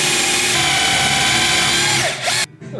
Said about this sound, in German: Ja, ein sehr mächtiger Bohrer.